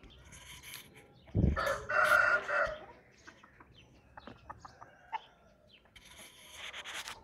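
A rooster crows loudly and close by at a rural home with goats and buffalo, followed by softer chicken clucking and scattered rustling, with no talk.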